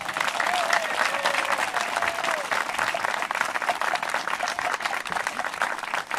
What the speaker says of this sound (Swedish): Jag tycker de är värda en applåd till